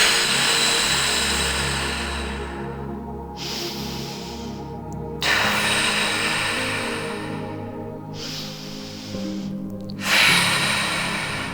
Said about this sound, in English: We have 4 more breaths here.